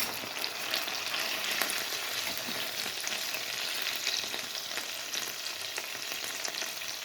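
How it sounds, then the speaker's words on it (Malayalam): Pieces of chicken fry in a pan for Japanese chicken curry, a dense, even sizzle with scattered pops and crackles that holds steady throughout and stays close, with no talking. "അപ്പോഴെല്ലാ ചിക്കനും മറിച്ചിട്ട് കൊടുത്തിട്ടുണ്ട്. അതൊന്ന് ചെറുതായിട്ടൊന്ന് വേവട്ടെ."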